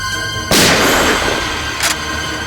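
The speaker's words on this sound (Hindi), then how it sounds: "गोली चला।" A single loud gunshot in a tense TV crime drama standoff, a sharp blast followed by a brief ringing decay, then a fainter second crack.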